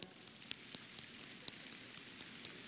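Light, irregular tapping, fingers of an audience on hands or surfaces imitating rain, heard as faint scattered pattering with soft, sharp clicks spread evenly over a quiet background.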